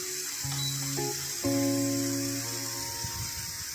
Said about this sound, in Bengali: এইদিকে যে সিটি পড়ছে